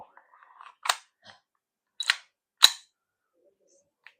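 A KJ Works CZ SP-01 Shadow CO2 airsoft pistol fires three sharp, snappy shots spaced a second or so apart, close and crisp against near silence, after a faint murmur of voice.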